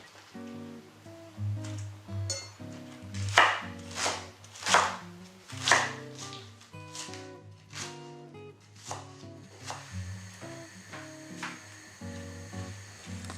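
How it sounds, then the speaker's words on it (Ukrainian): A knife chops through leeks on a cutting board in a series of crisp, uneven strokes, a few louder cuts standing out, close and without talk. "Нарізаю цибулю порей."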